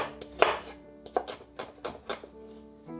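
A knife chopping an onion on a cutting board while preparing a steak stir fry, with about eight close, crisp cuts at an uneven, unhurried rhythm and no talking.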